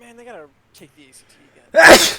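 Quiet speech followed by a single loud, abrupt sneeze close up.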